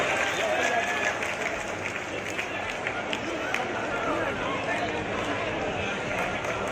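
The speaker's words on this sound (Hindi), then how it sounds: "माननीय जोरदार तालियों से हम और आप भी अपने स्वागत की अभिव्यक्ति करें।" Dense, sustained applause from a large crowd at a public event in Singrauli welcoming the Defence Minister, loud and continuous throughout, with a murmur of voices mixed underneath.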